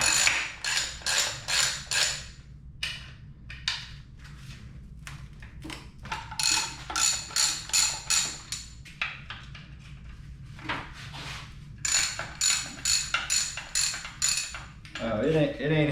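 A wrench works on torque converter bolts during removal of a VW engine and transmission, a series of loud, close metallic ratcheting bursts and clinks, some quick and rhythmic, with short pauses between them.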